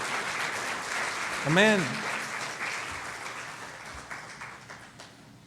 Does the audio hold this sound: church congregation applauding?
yes